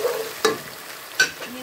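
Pink-tinged onion with ginger and garlic frying in a pan, a soft continuous sizzle with two brief sharper crackles from stirring, close and fairly quiet.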